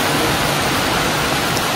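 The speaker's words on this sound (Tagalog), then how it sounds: "biglang buhos po ng malakas ang ulan" A sudden heavy rain downpour roars as dense, continuous, loud hiss with no pauses or voices.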